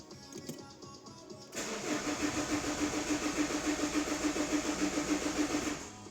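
Renault Clio 2 with a 1.5 dCi diesel engine cranking without starting: a starter whirs in a rapid, steady pulsing rhythm for several seconds, close and fairly loud, then stops.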